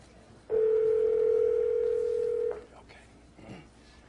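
A steady telephone dial tone hums alone for about two seconds while a phone call is being placed, then cuts off into quiet room noise with a faint click.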